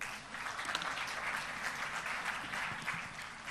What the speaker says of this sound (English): A huge round of applause for such an eminent speaker.